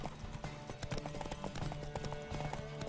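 Horse hooves gallop in The Witcher 3 video game, a quick, steady clip-clop rhythm over a continuous background hum.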